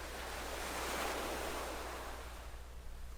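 Ocean waves wash in a steady, broad roar of surf with a gentle swell and a low wind rumble, continuous and unbroken, with no voices.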